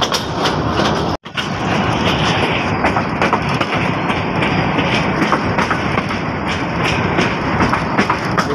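Chilmari commuter train rolling along the rails at about 18 km/h on the Ramna Bazar to Kaunia Junction route, a continuous loud rumble with steady clickety-clack of wheels over joints and one brief drop-out.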